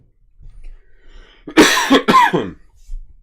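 Two harsh coughs from one person in quick succession, loud and close against a quiet room, followed by a faint throat sound.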